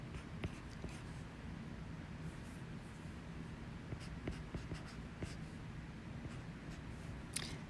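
A pen or pencil writes out a compound interest formula by hand, a soft, steady scratching of strokes and taps on paper close to the mic, quiet throughout.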